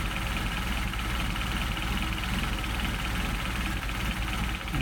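A Mercedes 190SL engine with Solex carburetors idles steadily and evenly nearby while its idle mixture is adjusted, with no clear speech over it.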